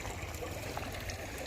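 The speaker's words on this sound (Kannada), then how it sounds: "ನೀರು ನೋಡಿ ಇಲ್ಲಿ ಹರಿತೈತೆ. ನಮ್ಮೂರಲ್ಲೆಲ್ಲ ಕಾಲುವೆಲ್ಲ ಹರಿತದಲ್ಲ," Water runs steadily in a canal-like stream, a soft continuous rushing and trickling that stays low and even with no voices over it.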